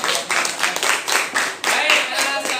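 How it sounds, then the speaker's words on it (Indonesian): Classroom applause breaking out during a batik lesson, a close burst of many hands clapping in quick uneven rhythm for a couple of seconds, with voices mixed in. "Tepuk tangan dulu."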